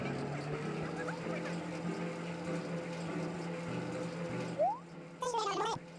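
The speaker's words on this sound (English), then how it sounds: "What about my super loud washing machine?" A super loud washing machine furniture item in Animal Crossing: New Leaf runs with a steady, droning mechanical hum and rattle throughout, ending with a short chirpy burst of game sound.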